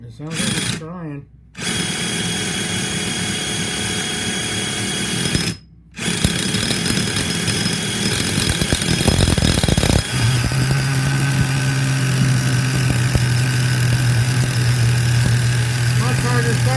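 A Duratrax Evader DTX18 nitro RC car engine sputters and cuts out twice, then catches and runs in a loud, harsh, rattling buzz close by, settling into a steady idle with a low hum underneath.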